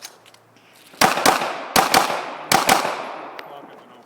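Pistol shots at an outdoor action pistol shooting match, three quick pairs of sharp cracks about a second apart, loud and near with short echoing tails.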